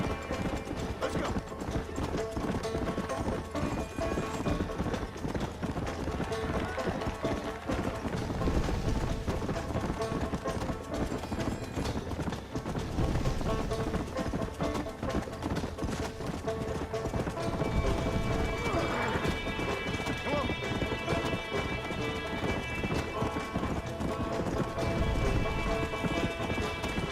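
Horse galloping in Red Dead Redemption, hoofbeats pounding in a steady rapid rhythm over game music and ambient rain, loud and continuous throughout.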